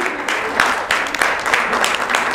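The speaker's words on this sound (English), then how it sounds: "you can keep the applause on for this wonderful moment for both Srivi and Mr. A.V.Ilango" An audience at a book launch claps together in brisk, dense applause, loud and close, with a few sharp individual claps standing out over the crowd's steady patter.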